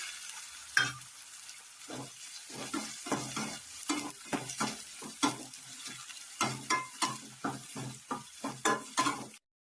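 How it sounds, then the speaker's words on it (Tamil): Chopped onion frying with cumin seeds in a pan for chicken gravy, bright sizzling under frequent, close spoon scrapes and stirring knocks throughout. "ஒரு வெங்காயம் எடுத்து இது மாதிரி குட்டி குட்டியா கட் பண்ணி சேர்த்துடலாம்"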